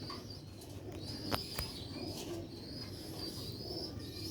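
Batera pigeons, a high-flying Sialkot breed, coo steadily in a loft under a low background hum, joined by a few sharp chirps and a brief flutter near the middle.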